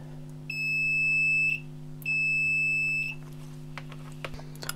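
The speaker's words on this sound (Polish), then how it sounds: "miernik emituje sygnał, jeżeli istnieje połączenie elektryczne między jego sądami" Two steady electronic beeps from a multimeter continuity test, each about a second long, with a short gap between, over a constant low hum.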